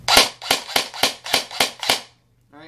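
An Evike CQB M4 airsoft gun fires seven sharp, evenly spaced shots in quick semi-auto succession, close and loud, followed by a short mechanical rattle.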